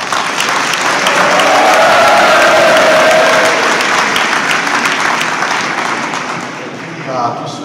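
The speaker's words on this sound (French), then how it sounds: "on peut applaudir le major" Loud, dense applause from an audience at a gendarmerie ceremony for the major, a steady wash of clapping with a few cheers, easing off toward the end.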